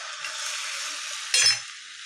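Green chili chutney sizzles steadily in hot oil as a dhaba-style aloo paratha is being made, a continuous close crackling hiss with a brief louder burst and a low clink near the end.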